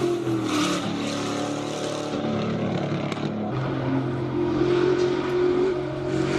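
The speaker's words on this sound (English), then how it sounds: "BMW Z4 LS power, rear-wheel drive V8." A rear-wheel-drive BMW Z4 race car with an LS V8 engine and wide body runs at a hill-climb event in Cape Town, its engine a loud, steady drone with some rise in pitch throughout.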